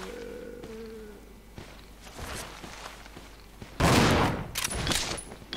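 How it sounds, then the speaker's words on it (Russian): Gunfire in Resident Evil Zero: a few scattered shots early on, then a louder burst of rapid shots near the end over quiet game ambience. "Вот это мы постреляли с нашей мадемуазель"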